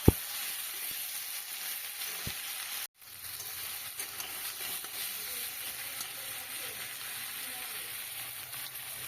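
Onion and red tomatoes frying in a pan with a steady, close sizzle, a few scrapes as they are stirred, and a brief dropout early on before the crackle resumes evenly.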